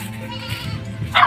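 A goat, one of the farm's breeding does, gives a short bleat near the end, close and fairly loud above a steady low hum of background noise.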